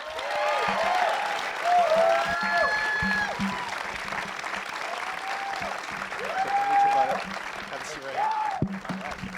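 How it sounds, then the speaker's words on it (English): Audience at a film Q&A screening applauds steadily as the star actor is welcomed on stage, a dense, sustained wash of clapping with whistling and cheers rising over it, fairly loud and continuous. "Does this crowd sound like they love this movie?"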